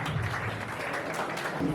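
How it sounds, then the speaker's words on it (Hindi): Audience applause at a Diwali gathering of senior citizens, welcoming a speaker to the stage; steady, dense clapping from a crowd filling the whole moment without talk. "बड़े जोर ताली से स्वागत करिए"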